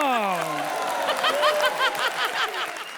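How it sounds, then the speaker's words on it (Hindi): Studio audience applause on a televised comedy show, a dense clatter of clapping that swells in after a brief musical tone and carries on steadily with scattered voices and laughter mixed in. "जोरदार तालियां"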